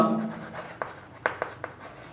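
A pen scratches across paper in a class 6 math lesson, a few quiet short strokes and taps close by, with no talking.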